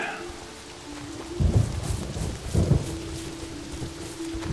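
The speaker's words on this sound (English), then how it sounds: "Grumble of that thunder." Steady rain hisses throughout while two low rumbles of thunder roll in, one after the other, a few seconds apart.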